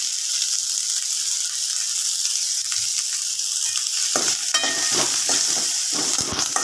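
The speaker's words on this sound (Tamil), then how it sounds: "நல்லா வதக்கிக்கோங்க இதுக்கிட்டு கருவேப்பில ஆட் பண்ணுறேன்" Curry leaves sautéing in hot oil for a shark fish curry, a loud continuous sizzle and hiss that grows busier with scraping, clattering stirs in the last few seconds.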